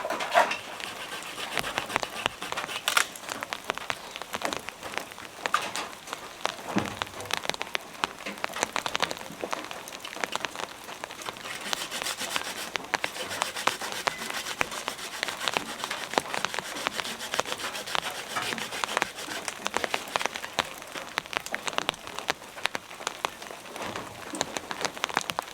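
Heavy rain pours steadily outside a remote hut, a dense, continuous hiss of drops drumming on surfaces close by, with faint bird calls in the background and no talking.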